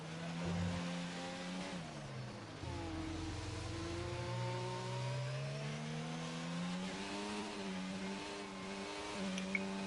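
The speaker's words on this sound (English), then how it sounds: "Nuke OCE coming in to start their flying lap" Race car engine in a sim racing video game, a car starting its flying lap in an Oceania league race; steady engine drone with rising and falling revs and gear shifts, continuous and fairly close, no talk.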